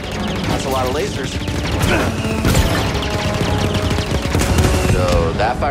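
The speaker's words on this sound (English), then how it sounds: "That's a lot of lasers." Rapid bursts of laser blasts and crashing impacts in a dense game soundscape, with voices talking over the continuous firing.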